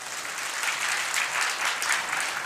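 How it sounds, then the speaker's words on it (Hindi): An audience at a religious gathering claps steadily, a dense, even wash of many hands applauding throughout, close and fairly loud. "तो ताली तो बजा दीजिए ना।"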